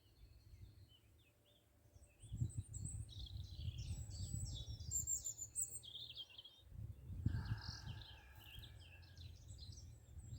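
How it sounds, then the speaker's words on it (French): Small birds chirp and trill in bursts from hedges and trees outdoors, faint and somewhat distant over a low rumble of background noise. "écoutez les sons, les froissements peut-être, les oiseaux qui chantent"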